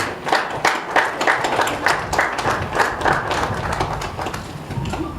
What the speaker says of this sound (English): A round of applause for yourself, please